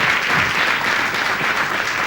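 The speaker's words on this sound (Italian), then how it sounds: "con questo applauso ringraziamo il mistero" Steady, full audience applause filling the room at a live show, dense and even throughout with no voices standing out.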